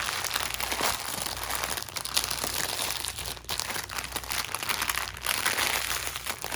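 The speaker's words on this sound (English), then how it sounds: "Sorry for all that crinkling on that thick plastic." Thick plastic bag crinkling loudly and close during an unboxing, a continuous run of crackly rustling and crunching bursts with no talk over it.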